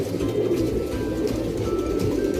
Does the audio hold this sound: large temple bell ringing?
no